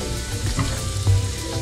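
Chili powder and onions sizzle in a frying pan during home cooking, a steady close hiss with soft stirring and watery crackle throughout the short stretch.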